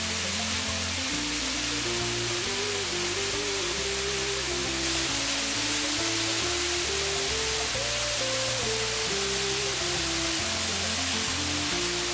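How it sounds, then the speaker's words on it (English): A spectacular waterfall rushes in a continuous broadband roar, steady and loud throughout with no voices, close to the falling water. "the benefit is the waterfalls sing. And this one is a particularly spectacular one."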